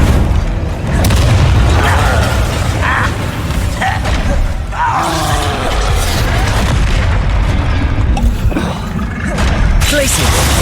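Loud, booming spell explosions from Hogwarts Legacy on PS4 Pro, with Incendio and Bombarda blasts thudding and rumbling one after another almost without pause, layered over game effects.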